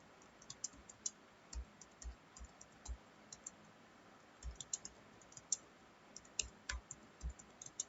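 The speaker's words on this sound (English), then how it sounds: "Now we'll type the program." Typing HTML code on a computer keyboard, faint irregular key clicks and taps in bursts, recorded close but quiet, with no talking.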